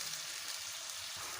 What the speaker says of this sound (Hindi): ये हमने प्याज डाल के इसके अंदर थोड़े से मसालों को हम अच्छे से भून लेंगे